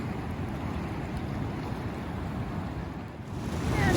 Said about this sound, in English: There's the opening of the Glacier Bay here, and you can see the water is just rushing by.